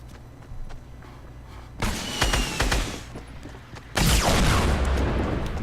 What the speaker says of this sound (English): Troy going crazy with his minigun